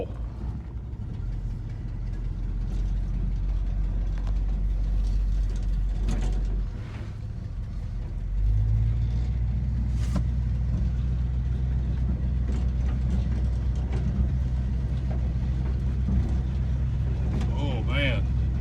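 A Chevy C20 pickup with its bed on pulls out in low gear, its engine a steady low rumble throughout that swells slightly after a brief dip, with a person speaking over it.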